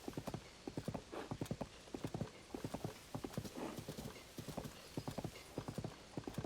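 Horse hooves gallop in Zelda: Tears of the Kingdom, a fast, steady rhythmic clip-clop of repeated three-beat hoof strikes, close and continuous over a soft ambient wash.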